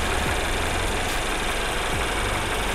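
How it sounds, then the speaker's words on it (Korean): The engine of a Mercedes-Benz C200 Avantgarde with low mileage idles with the engine bay open, a steady, even hum with a light rhythmic tick, heard close up with no talking. "엔진 소리 일정하네요"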